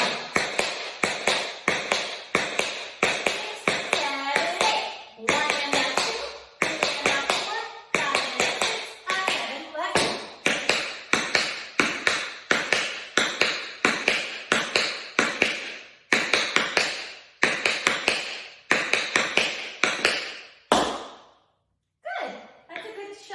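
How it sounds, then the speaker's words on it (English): Tap shoes on a hard floor in a shuffle technique exercise, loud rapid brushing taps in steady rhythmic bursts with brief pauses, plus occasional voices and light laughter. "That's a good shuffle technique exercise."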